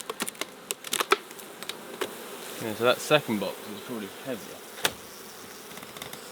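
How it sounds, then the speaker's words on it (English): A dense, close drone of honeybees swarming around an open hive brimming with bees during a summer honey flow, with clicks and knocks of hive parts and a short spoken remark over the buzzing. "It's bursting with bees down here."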